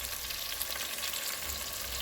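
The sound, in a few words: spices frying and being stirred in oil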